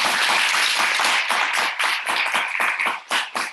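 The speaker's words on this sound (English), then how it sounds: "Y'all clap for me." Audience clapping at a life institute gathering, loud and close, with distinct uneven hand claps overlapping into a dense burst of applause.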